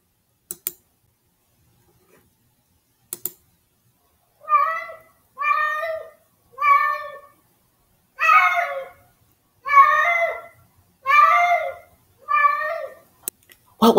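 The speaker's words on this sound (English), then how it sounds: "A cat." A domestic cat meows seven times in a steady series, each call clear and fairly close, with quiet gaps and a few soft clicks before and after.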